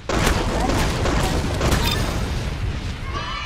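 Video game gun firing at monsters in the game Arsenal: a loud, continuous burst of rapid booming shots for about two seconds, fading into a quieter tail with faint tonal game sounds.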